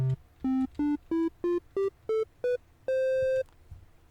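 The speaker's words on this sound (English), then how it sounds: "Then we have our triangle wave." A synthesizer triangle wave plays a rising series of short, pure, soft-edged notes, evenly spaced, ending on one longer held tone, clean and isolated.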